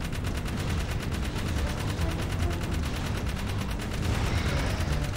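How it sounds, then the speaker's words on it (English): Continuous rapid gunfire from the video game Jak 3, a dense, steady rattle of shots that runs loud and unbroken from start to finish. "Keep shooting them."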